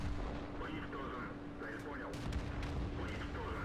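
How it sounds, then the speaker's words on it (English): The 6-pounder gun of a Churchill III tank fires in World of Tanks, the game's muffled cannon booms and battle noise sitting low beneath someone talking steadily over them. "it's the same 6-pound gun on the Crusader, which has amazing penetration for the rate of fire"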